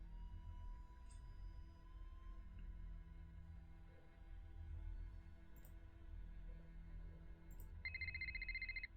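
A telephone in the Nancy Drew: The Silent Spy video game rings once near the end, a bright electronic trill rising over a low humming room ambience after several quiet seconds.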